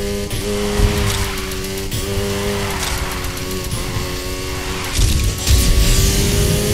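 A car drifting in Need for Speed Heat holds a loud, steady engine drone with tire squeal layered over it, the pitch shifting as the slide is held and a few sharper bursts near the end.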